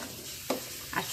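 Taro greens with grated coconut being stir-fried in a kadai, a spatula scraping twice in short bursts against the pan over a faint, steady sizzle.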